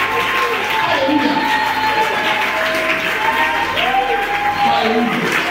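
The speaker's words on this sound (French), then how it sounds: "nous allons acclamer le Seigneur ce matin" A church congregation claps and cheers loudly and steadily throughout, a dense wash of applause with shouts rising above it and voices mixed in.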